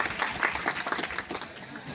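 An audience at a school Independence Day event applauds to welcome the village head, a dense patter of many hands clapping at close range, lively and continuous.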